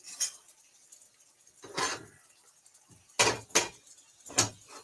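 Spatula scraping and pressing shepherd's pie filling down into a pan, aiming for a sear on the bottom: several sharp metallic clanks and scrapes in separate bursts, close and fairly loud, with quiet gaps between.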